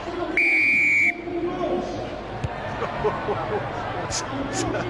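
A referee's whistle blows one sustained shrill blast to start a charity rugby match in a stadium, over steady crowd murmur with a commentator talking.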